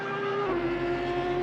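Race cars in a racing video game at the Nürburgring give a loud, sustained engine drone with a steady pitch that shifts slightly midway, and nobody talks.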